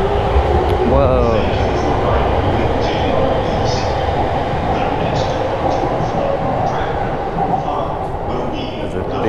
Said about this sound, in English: There's a big old train full of people.